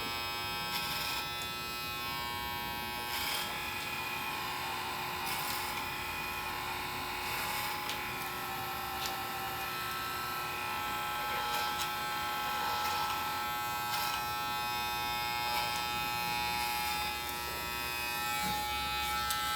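Electric hair clippers buzz steadily and continuously at close range while tapering a man's long haircut around the hairline and behind the ear, with faint comb and handling noises.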